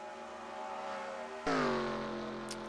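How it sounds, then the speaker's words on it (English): Race car engine idling in a racing video game at a Talladega Superspeedway event, a steady droning hum with harmonic tones that jumps louder and rougher midway, then holds near and continuous with no talk. "Heard that idling engine up ahead"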